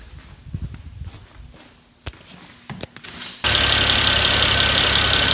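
A BMW E36 fitted with a turbocharged N54 engine fires up: after a quiet stretch of footsteps and clicks, the engine catches abruptly and settles into a loud, steady running roar that fills the rest of the clip.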